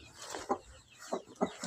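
A domestic hen at a farmstead clucks softly in short, separate bursts, four or five low calls spaced irregularly over a quiet background.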